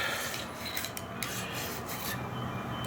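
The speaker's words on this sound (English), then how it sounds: "run this bristle brush in there" A bristle brush scrubs steadily inside the bore of a Ruger Old Army .45 black-powder revolver, giving a continuous close raspy rubbing with slight back-and-forth surges and no talk.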